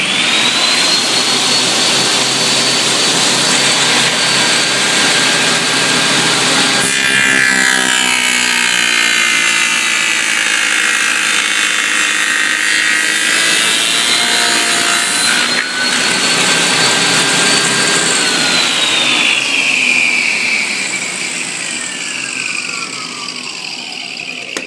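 Loud, continuous power saw cutting box joints through wooden boards for a bee hive box, a sustained high whine that shifts in pitch as the blade works through the wood over two passes, with no talking.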